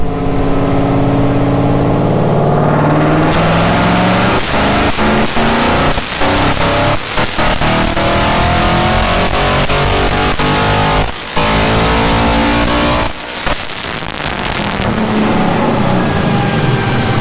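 A 2015 Ford Mustang making over 800 horsepower revs hard on a dyno in a tuning shop, its engine roaring loud and close with rising and falling pitch and a few sharp breaks between pulls.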